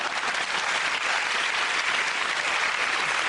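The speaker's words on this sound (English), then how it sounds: "Ladies and gentlemen, that round of applause go to Russell Alamandi." Dense, sustained applause from a TV comedy panel show studio audience, loud and even throughout with no voices above it.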